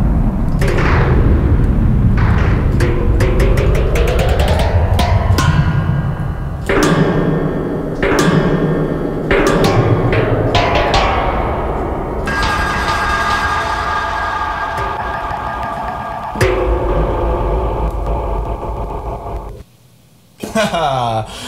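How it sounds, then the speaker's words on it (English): Evolve Mutations 2 aqueous slammer percussion rings out as loud, metallic, watery booms like pounded gas tanks, struck in a steady repeating pattern with long resonant tails. "These aqueous slammers, sometimes it sounds like these gas tanks are being pounded upon."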